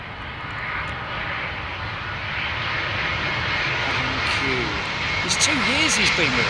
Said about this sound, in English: So we've got an Emirates 380 inbound, folks.